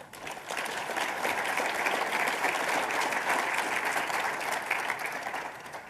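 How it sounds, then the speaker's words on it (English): Sustained round of audience applause for a forum's panelists at an AUSA event, many hands clapping evenly and continuously from start to finish at moderate, somewhat distant level. "Join me in a round of applause for our panelists."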